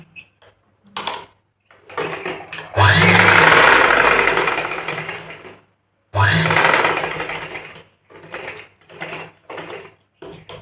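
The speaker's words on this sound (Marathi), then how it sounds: "इथून मधून एक दाब शिलाई आपल्याला देऊन घ्यायची आहे" Domestic sewing machine running stitches along a blouse strip, with two long continuous whirring runs, the first about three seconds, and shorter mechanical bursts and pauses around them, close and fairly loud.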